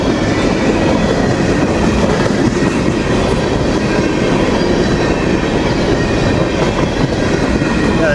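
A freight train rolls steadily past a crossing with a loud, continuous roar of wagons and rhythmic clickety-clack of wheels, with faint wheel squeal throughout.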